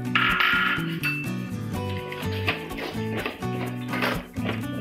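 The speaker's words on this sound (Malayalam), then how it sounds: "നമുക്കിതിലേക്ക് കല്ലുമ്മക്കായ ഇട്ട് കൊടുക്കാം." Green mussels are tipped into a pan for a mussel roast, making a burst of hard clinks and clatters of shells against metal over a musical background.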